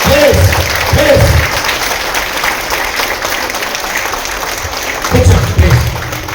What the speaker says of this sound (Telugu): ప్లీజ్ చప్పట్లు చాలా చక్కగా ఉన్నాయి